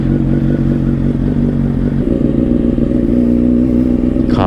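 A motorcycle with a new chain and sprockets, ridden on a public road in daytime, drones loudly and steadily with a low engine note that shifts pitch midway as revs change.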